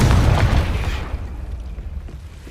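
Confringo fire spell exploding in the Hogwarts Legacy video game, a loud close blast that fades into a rumbling, crackling decay over about two seconds.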